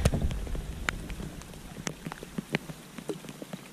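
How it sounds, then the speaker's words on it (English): Warm rain falling outdoors beside water during a crappie fishing trip, scattered drops ticking and tapping sharply on nearby surfaces over a soft, low background hiss, close and irregular. "It's warm and it's raining."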